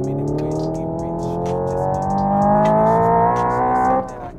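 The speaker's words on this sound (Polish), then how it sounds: "Ten dźwięk oznacza, że jadę autem spalinowym i mogę manetkami zmieniać biegi" Combustion-engine car in Forza Horizon 5 revving steadily upward through paddle-shifted gears, the engine note climbing loud and continuous before dropping sharply near the end as a gear changes.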